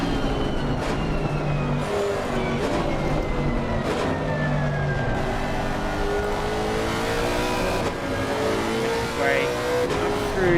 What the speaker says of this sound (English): Listen to the beautiful sounds of that V8 engine.